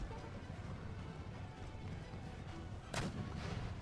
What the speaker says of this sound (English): Okay, General, you should be out of cannon fire now.